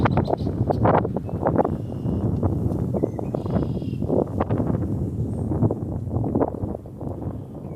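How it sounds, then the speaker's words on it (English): Gusty wind buffets the microphone on a riverside walk, a close, uneven low roar that rises and falls for several seconds. "Sorry about the wind, y'all."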